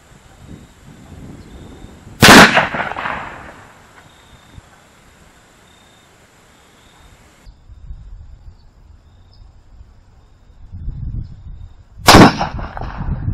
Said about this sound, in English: I expect it'll blow right through the pumpkin, even though it's a soft point bullet.